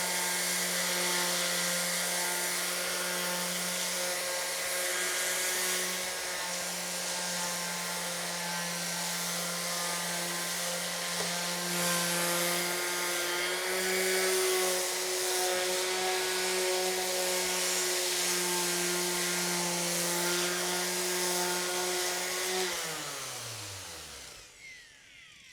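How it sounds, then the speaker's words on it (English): A power sander running over wooden farmhouse table boards, a steady close motor whine with a sustained hum that holds throughout, then spins down and stops at the end. "Now you don't really have to push hard on the sander."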